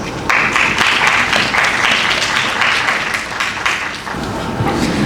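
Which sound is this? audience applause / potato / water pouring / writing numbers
audience applause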